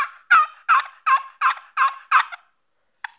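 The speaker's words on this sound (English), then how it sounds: "This is a Lynch model 102. It's double-sided. This side's for the hen." Seven quick, raspy hen yelps come from a double-sided Lynch model 102 wooden turkey box call, loud and close, then a short faint scrape after a pause; nobody speaks.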